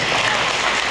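An audience at a stage event bursting into loud applause to welcome a speaker, a dense wash of clapping that fills the brief moment.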